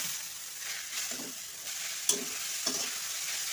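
Dried red chillies and black mustard seeds tempering in hot oil for a papaya chutney make a faint, continuous hiss, broken by a few light stirring scrapes and small pops, with no one speaking.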